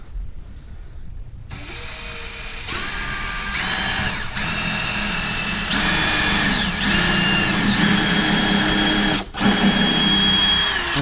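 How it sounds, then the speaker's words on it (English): A power drill with a 7/64 bit bores pilot holes through two joined kitchen cabinets, whining steadily at close range in several rising and falling bursts with brief pauses, no talking over it. "So now I'll pre-drill with a 7/64 drill bit through the two cabinets"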